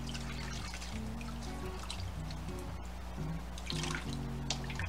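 Water running steadily from a tap into a kitchen sink while chitlins are washed, a continuous trickling splash with small drips and sloshes, close and fairly quiet, over a low constant hum.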